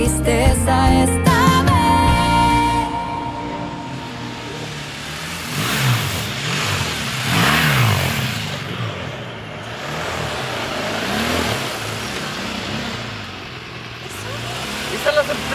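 A motorcycle engine revs and accelerates in rising and falling surges, fairly loud and close, running steadily as voices talk over it.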